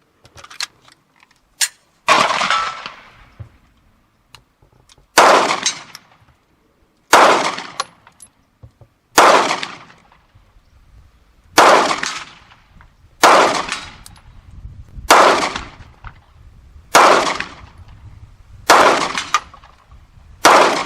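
FN FNX pistol fired at a shooting range, about a dozen loud sharp shots spaced roughly two seconds apart, each with a short ringing tail, no talking.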